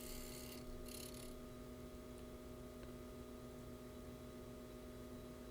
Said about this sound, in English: Here I have the lathe going at about 900 RPM.